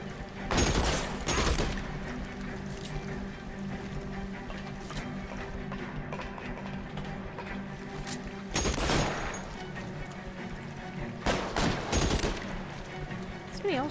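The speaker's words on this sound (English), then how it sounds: "Somebody else shooting at me right now." Gunfire in the video game L.A. Noire comes in three loud rapid bursts, one at the start and two later, over a steady background din with voices talking.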